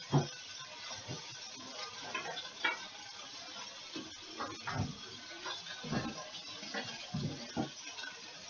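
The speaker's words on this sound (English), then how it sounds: "I'll wash my hands again." Tap water runs steadily into a kitchen sink while hands are washed, a continuous splashing hiss broken by small irregular splats and clatters, close and moderately quiet, with no talking.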